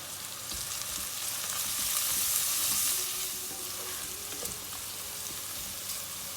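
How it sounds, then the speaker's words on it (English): Onions fry in a pan with turmeric for a curry and egg puff filling, a steady close sizzle that swells briefly in the middle before settling back to a constant crackle. "So let's just fry it for 2 to 3 minutes."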